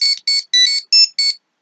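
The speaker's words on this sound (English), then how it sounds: "Teleportation noise." A Mighty Morphin Power Rangers Legacy toy communicator plays its teleportation effect: five bright, warbling electronic chirps in quick succession, loud and close, with no other sound around them.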